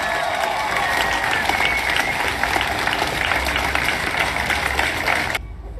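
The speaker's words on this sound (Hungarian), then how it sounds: "Egy tapsot szeretnék neki kérni." A crowd at a national education demonstration in Veszprém applauds loudly and continuously, a dense roar of clapping mixed with cheers that cuts off abruptly near the end.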